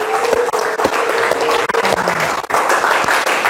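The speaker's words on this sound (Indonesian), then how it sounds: "Tepuk tangan lah barudak." Schoolchildren in a classroom clap their hands together, a lively burst of close, uneven applause from a small group with a few voices faintly mixed in.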